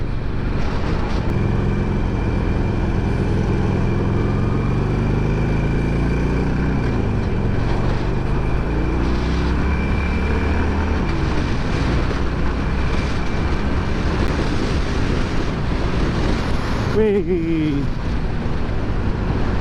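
Wind rushing past while riding a BMW motorcycle on the road, a loud, constant roaring buffet with engine drone beneath and a brief rising whine near the end.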